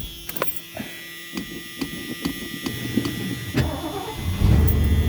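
A 1978 Ford Thunderbird engine on a cold spring morning cranks in a series of evenly spaced starter clicks and turns, then catches and settles into a louder, steady low rumble near the end.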